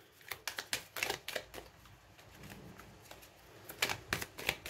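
Tarot cards being shuffled ahead of a card reading, a run of crisp riffling bursts coming in quick clusters, fairly close and moderately loud, with a quieter stretch midway before a final flurry.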